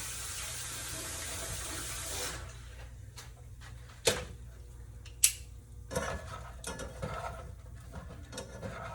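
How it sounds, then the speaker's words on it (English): Hands rinsed under a running kitchen tap, a steady water hiss for a couple of seconds, then it stops, leaving scattered clinks and light handling noises nearby. "Just rinsing my hand off first."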